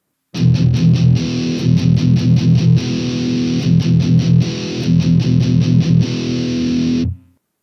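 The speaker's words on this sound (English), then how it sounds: "And then here is what distortion sounds like." An electric guitar with heavy distortion churns out a thick, loud metal riff of chugging muted chords and held notes for about seven seconds, close and without voices, then cuts off.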